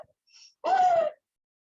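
A voice imitates wheezing breath with one faint short breathy sound followed by a louder strained, whistling exhale lasting about half a second.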